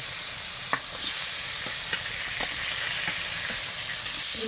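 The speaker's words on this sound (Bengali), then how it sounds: "এবার মশলাটা ভালো করে কষিয়ে নিব" Spice paste of chilli powder and coriander powder sizzling in hot oil, a steady close hiss with faint stirring scrapes.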